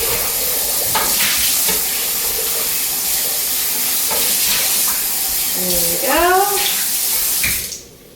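Tap water gushes steadily into a blender jar used for crushed tomatoes as it gets rinsed, a loud continuous splashing that stops abruptly near the end, with a brief spoken remark.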